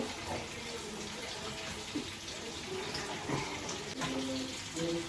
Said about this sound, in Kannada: ಬೆಚ್ಚ ನೀರು ಪಾಡ್ನೆ ಅಡ್ಲ ಚೌಲಿ ನೀರು ಪಾಡ್ ಮಲ್ಪೇವೆ